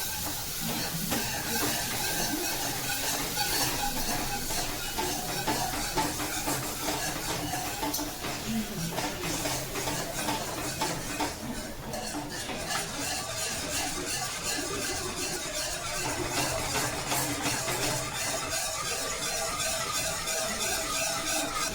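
Milk is poured into a pan of melted butter and flour for white sauce, giving a continuous, fairly quiet sizzling hiss that holds steady throughout.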